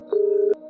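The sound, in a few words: telephone dialing tone in cartoon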